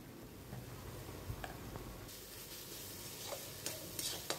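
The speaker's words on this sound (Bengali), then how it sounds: "সামান্য একটু লবণ দিয়ে টমেটোটা ভালোভাবে ভেজে নেব" Chopped tomato fries with a little salt in a pan, giving a soft, steady sizzle. A spoon stirs and scrapes now and then, making a few sharp clicks and taps close by, with no talking.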